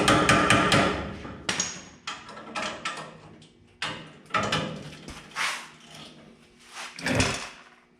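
Hammer blows on a vehicle leaf spring pack being taken apart, a series of sharp metallic strikes in quick bursts, then more spaced, ringing hits, loud and close.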